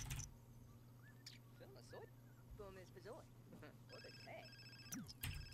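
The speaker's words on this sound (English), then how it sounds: "Someone's phone is ringing." A telephone ring sounds in The Sims 4, a life-simulation video game, with repeated electronic tones over steady background music and game sounds, while people talk over it.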